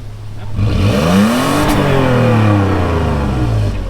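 A 4WD vehicle's engine revs up with a deep, throaty roar on a track in West Arnhem Land, Australia, its pitch climbing and then settling into a steady, loud drone close by.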